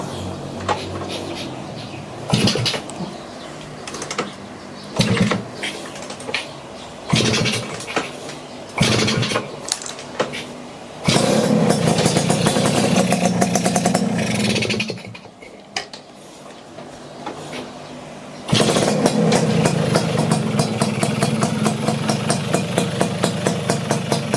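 A two-stroke engine sputters through several short bursts and stops, then settles into longer stretches of loud, steady idling with a rapid putter, broken by a brief quieter dip.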